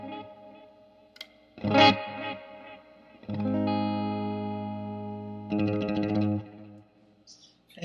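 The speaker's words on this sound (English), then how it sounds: "has dynamic modulation that changes the modulation feel and sound according to the tempo that you set" Electric guitar played through a Lovepedal Echo Baby echo pedal with tempo-linked modulation: loud, ringing chords and sustained notes that swell and trail off into warbling, wavering repeats, with short pauses between phrases.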